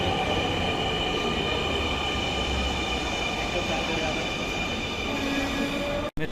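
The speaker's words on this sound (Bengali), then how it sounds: "আমাদের ট্রেন আর এক মিনিট পরে এই প্ল্যাটফর্মে আসবে" Dhaka Metro Rail train at a station platform, a loud, steady rumble and hiss that fills the whole stretch before cutting off abruptly at the very end.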